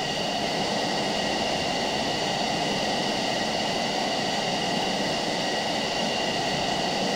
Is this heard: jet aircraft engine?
yes